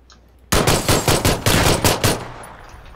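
A loud burst of about seven closely spaced gunshots in the PUBG video game, fired in quick rhythm with no talking, then a short fading tail.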